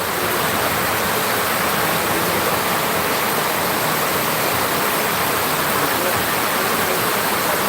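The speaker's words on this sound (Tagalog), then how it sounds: "Grabe lakas ng ulan." Heavy rain pours in a steady, dense, loud hiss that holds without a break for the whole stretch, with no voices over it.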